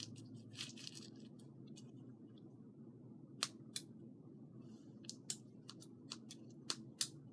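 Scissors work at cutting open a hacky sack, giving sharp, isolated snips and clicks spread irregularly over a quiet hum, with some faint rustling early on and no talking.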